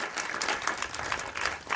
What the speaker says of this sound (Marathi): पुन्हा एकदा जोरदार टाळ्या वाजवून त्यांचं स्वागत करूया